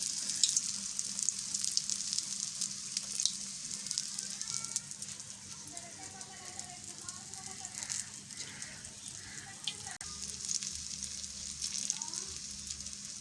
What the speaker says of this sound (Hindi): हमने ये फ्राई पैन में ऑयल गरम कर लिया है। अब हम इसे इसमें ऐड कर देंगे।